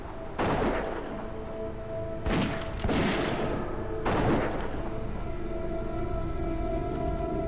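A dwarf hunter in World of Warcraft Classic fires rapid shots in a fight at the Dunemaul Compound, three sharp bursts spaced a second or so apart over a droning background hum, with no speech.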